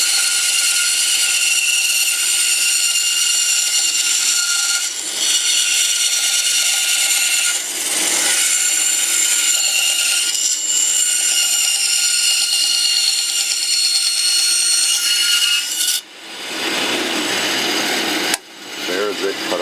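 Saw cutting a round out of a wooden blank, a loud, close, steady high-pitched whine and rasp that runs almost without a break, with short dips near the end as the blade finishes.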